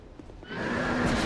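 A horse whinnies in Dark Souls 2, a drawn-out neigh rising after a quiet start and holding loud to the end, with no talk over it.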